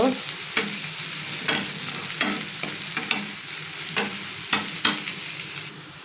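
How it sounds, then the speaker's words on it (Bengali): Raw onions with sliced chilies frying in a pan, a steady close sizzle punctuated by about a dozen sharp stirring scrapes and clacks, with no talk. "কাঁচা পেঁয়াজগুলো লাল লাল করে ভেজে নেব"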